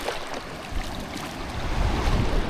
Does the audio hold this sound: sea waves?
yes